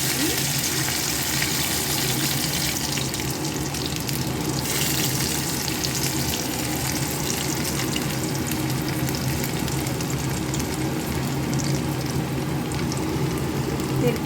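Five-spice and cumin seeds fry in hot oil for a ladies finger dish, producing a loud, dense, unbroken sizzle and crackle close up that holds steady throughout.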